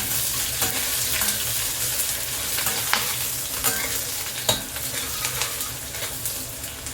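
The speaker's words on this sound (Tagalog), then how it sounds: "Gisahin na natin yung bawang, sibuyas" Garlic and onion sauté in hot oil for a mung bean stew, a continuous close crackling sizzle with frequent spatula scrapes and stirring taps throughout.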